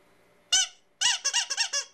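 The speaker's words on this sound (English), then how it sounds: "Squeaky dinosaur." A squeaky toy dinosaur squeezed by hand: one sharp squeak, a pause, then a quick run of five or six close, loud squeaks, alone with no voices.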